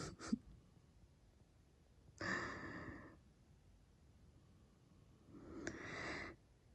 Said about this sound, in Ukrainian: От як спати з оцим хропуном?